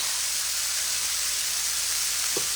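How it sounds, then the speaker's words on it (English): Steady, bright hiss of food frying in hot oil, continuous and even throughout, with a faint clink near the end. "You can hear it sizzling, I hope."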